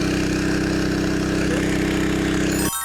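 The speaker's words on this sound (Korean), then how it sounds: "프렉시블 펌프로 이제 엔진 바이브레이터에 연결을 해서 시연을 해봤는데요" A petrol engine vibrator drives a flexible pump, its steady idling drone running loud and close with an even low throb before cutting off abruptly near the end.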